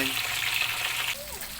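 Hot oil sizzling steadily as tilapia fries in a pan, a bright continuous crackle with a faint voice briefly underneath.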